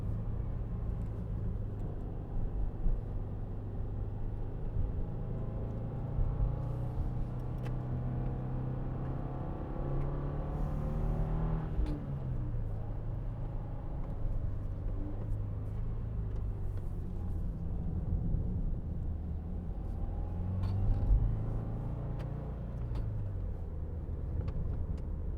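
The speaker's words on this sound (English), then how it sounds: "Got to put in a little work to get the car to keep its speed going up this hill." A car engine drones steadily while climbing a hill on a mountain pass, a low continuous rumble with road noise and faint shifts in pitch, close and even throughout with no voices.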